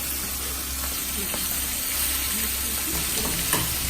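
Small pieces of quail fry in a little oil in a small pan, giving a steady, close, dense sizzle with faint crackles and occasional stirring clinks throughout.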